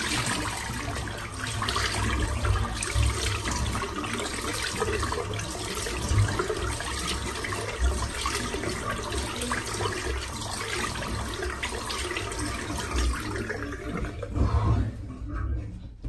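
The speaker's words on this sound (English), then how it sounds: "Just going to get this cold water straight away." Cold water runs from a tap in a steady, close-up splashing stream that continues without a break before stopping right at the end.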